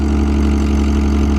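Gutted Mitsubishi Eclipse engine idling with no exhaust fitted, loud, close and raw with a steady rapid pulsing rumble.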